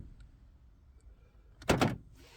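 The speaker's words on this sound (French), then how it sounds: "Centralisation de porte." Central door locking on a Renault Mégane 2 engages with a single quick mechanical clunk of the actuators, close and fairly loud after a quiet interior pause.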